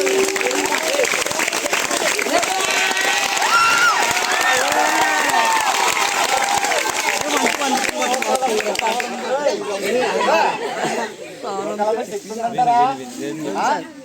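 A crowd claps steadily at a Nookalamma aarti during a science day event, with cheering and chatter mixed in. The clapping fades after about nine seconds, leaving voices and crowd noise.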